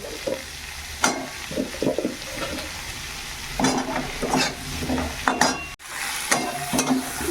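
Onion and eggplant frying in hot oil in a pan, a steady close sizzle with repeated stirring scrapes and spatula clicks across the pan, no talking.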